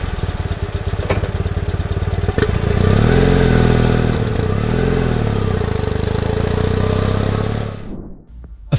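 A BMW R75 military motorcycle engine from World War II runs loud and close with a steady, throbbing mid-pitched drone and a clattering mechanical edge. It rises briefly, then cuts off abruptly near the end.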